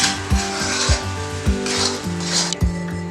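Moong dal halwa bubbles and sizzles in a kadhai while a spoon scrapes the pan in steady, repeated strokes, close and clear with no voices.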